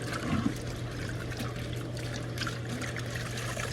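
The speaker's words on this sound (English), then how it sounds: "we're gonna take our old cotton shirts and dip this back in that water" Water trickles and splashes as an old cotton shirt is dipped and soaked, a steady close wet pouring sound over a low constant hum.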